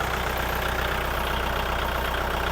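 A used L5018SP farm tractor's diesel engine idles steadily, a continuous even chugging rumble heard up close, alone with no voices.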